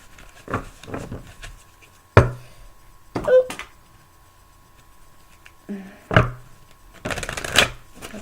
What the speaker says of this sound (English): These cards are just falling.